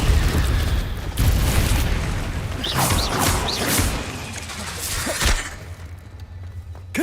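Confringo spell blasts in Hogwarts Legacy fire as several booming impacts with whooshing casts and swishes, loud and close, repeating over a few seconds amid other spell effects.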